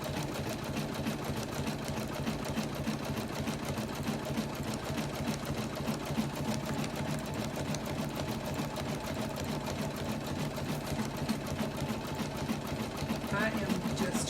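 Embroidery machine stitching a monogram onto a towel, a steady rapid mechanical chatter running throughout under a person talking.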